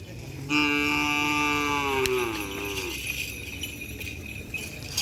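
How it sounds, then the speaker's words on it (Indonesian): A single drawn-out moo from a nearby cow, its pitch sliding downward before fading into a noisy outdoor background. "Ini ada sapi kecil juga"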